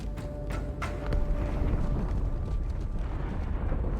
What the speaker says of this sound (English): That explosion came from inside the Athens, same as the Malta.